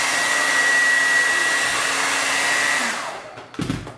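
A hair dryer blows on hair during a blowout with a loud, steady whooshing hum that then winds down and cuts off, followed by a brief faint clatter.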